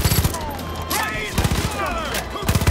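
Gunfire in Far Cry 5 comes in loud, rapid bursts at the start, middle and end. A voice cries out in between.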